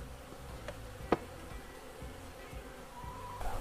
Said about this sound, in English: So there's tons of bees just underneath.